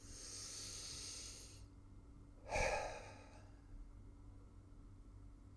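A deep breath in, heard as a soft drawn-out inhale followed by a short, louder exhale, close and quiet with no talk.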